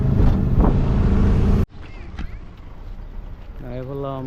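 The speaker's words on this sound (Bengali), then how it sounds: "এখন স্টেশনে যাইতেছি আমরা অটো দিয়া" Auto-rickshaw ride to a railway station: a loud, steady engine and road rumble for over a second, then it cuts to a quieter ride with low background noise and a voice talking near the end.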